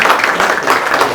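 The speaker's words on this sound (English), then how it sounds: "And let's give a big round of applause again for both of them." Audience at a business networking event applauding its sponsors, a dense, close burst of many hands clapping that stays loud and steady through the moment.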